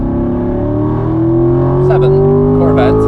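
A C7 Corvette Stingray engine drones loudly and steadily on the Nürburgring, its pitch slowly climbing under acceleration from inside the car, with a few brief clicks and rattles near the end.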